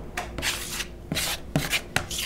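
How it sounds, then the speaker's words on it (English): A 2-inch trowel spreads Venetian plaster texture medium across a wall in short scraping strokes, four or five close, rasping swipes in quick succession with no speech. "Using about a 2-inch trowel, we're going to just begin to spread this, just kind of like spackling a wall."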